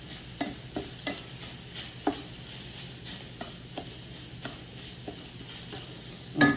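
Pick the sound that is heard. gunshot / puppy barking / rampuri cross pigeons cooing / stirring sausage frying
stirring sausage frying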